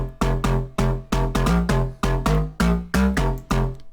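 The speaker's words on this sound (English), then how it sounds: "I added a bit of chorus again with an Ableton plugin" A synth bass line in Ableton with an Ableton chorus plugin added pulses as evenly spaced, punchy, thick notes in a steady rhythm, close and alone, with only slight pitch changes between the repeated notes.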